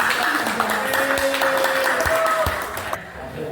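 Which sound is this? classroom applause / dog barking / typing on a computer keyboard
classroom applause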